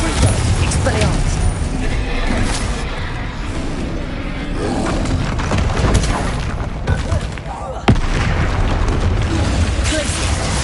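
Confringo spell explosions boom and roar continuously in the Hogwarts Legacy video game, forming dense, loud combat noise with a sharp blast near the end, while a voice shouts over the chaos.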